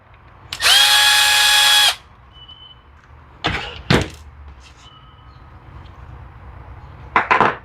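A power driver whirs for about a second, rising slightly in pitch, as it backs out the screws on the metering diaphragm cover of an Echo SRM 225 trimmer carburetor. Sharp clicks and clunks of small parts follow, close and clear, with no talking.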